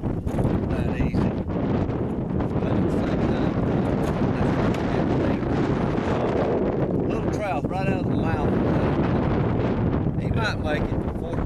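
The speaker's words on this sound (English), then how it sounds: "we're trying to find a place out of the wind this morning" Strong wind blows outdoors by a bay, a loud continuous rumble buffeting the microphone throughout, with someone talking over it.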